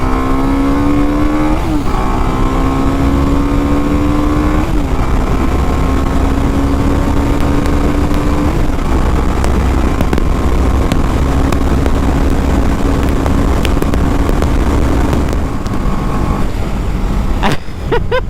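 A TVS Apache RR310 motorcycle engine revs hard at launch, climbing in pitch through repeated upshifts, loud and close and continuous throughout.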